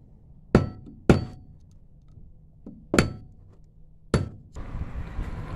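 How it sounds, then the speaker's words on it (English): A hammer strikes a screwdriver to knock out a woodruff key during a 224cc engine top-end build: five sharp metallic blows spaced irregularly, close and loud, with a shuffling clatter after the last. "Just gonna stick that screwdriver right in front of that key there, and I'm gonna hit it with a hammer."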